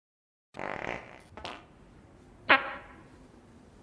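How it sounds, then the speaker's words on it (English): Cartoonish fart sound effect from a soundboard during a Shadowrun Dragonfall playthrough: a sputtering burst, a short squeak, then a final higher squeaky blip, fairly close and isolated against silence. "Was that a fart?"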